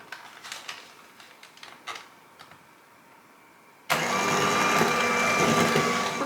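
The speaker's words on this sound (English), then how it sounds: "we're going to add in the cooled spice cake mix. We're going to mix these together until they are all combined." An electric mixer starts up partway through and whirs steadily and loudly, blending pumpkin cheesecake mixture with cooled spice cake mix after a few quiet bowl clinks.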